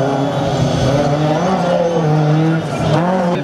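A Volkswagen Golf 2 rally car with a tuned 16-valve engine runs a slalom course in Calais, its engine droning loud and close with pitch shifts as it accelerates and brakes, and brief tire squeal throughout.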